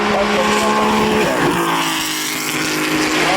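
A 1950s Maserati 250F Formula One car driving at a Goodwood festival, its engine loud and close with rising and falling pitch as it passes.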